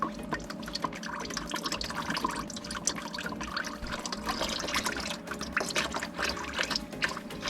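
Engine oil drains from a 2009-13 Toyota Corolla into a container below, a steady close trickle and dribble of liquid running continuously without pause.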